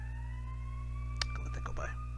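An ambulance siren passes by, with a steady rising and falling tone over a constant low hum. Brief voice-like bursts occur near the middle.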